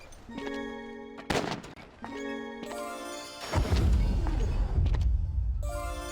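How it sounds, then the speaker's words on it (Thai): Gunfire in the mobile game Immortal Soul: Black Survival: bursts of sharp, bright shots and crashing impacts over repeating tonal game effects, loud and close, with a heavier rumbling impact toward the end. "ได้ยินเสียงปืน"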